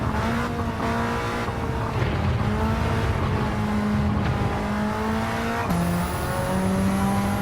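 A Mitsubishi Lancer Evolution race car in Gran Turismo 7 drones through a lap, its engine revving steadily with rising and falling pitch and a sharp shift near the end, loud and continuous with no talking.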